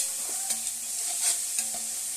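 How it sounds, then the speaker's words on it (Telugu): Onions, green chillies, biryani masala and tomatoes fry in hot oil for a prawn and egg biryani, a steady sizzle with a few scraping stirs of a spoon in the pan, no voices. "ఉల్లిపాయలు, పచ్చిమిరపకాయలు, బిర్యానీ మసాలా, టమాటాలు అన్నీ వేసి మనం ఫ్రై చేసుకుందాం"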